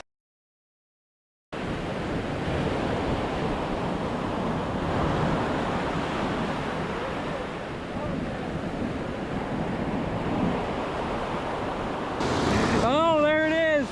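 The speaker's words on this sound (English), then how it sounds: "I can really easily get past these breaking waves" Waves break steadily on a sandbar beach during winter surf fishing, a continuous close roar of surf mixed with wind buffeting the microphone, with a brief tonal sweep near the end.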